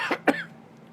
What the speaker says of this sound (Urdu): معاف کیجیے گا، ذرا موسمی کھانسی ہے